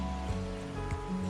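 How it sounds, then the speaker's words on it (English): A stream of running water somewhere in Cheshire gives off a steady, even rushing hiss with a low rumble underneath, continuous and moderately close for the whole stretch, with no voices. "we found some running water there."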